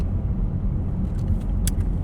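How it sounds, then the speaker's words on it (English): Steady low rumble inside a moving car, continuous and fairly loud throughout, with a few faint higher clicks and a brief jingle near the end. "I am in the car"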